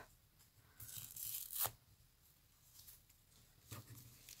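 Fake Pokémon cards being torn up by hand: a few short ripping bursts of thin card, close and quiet, with faint rustling between them.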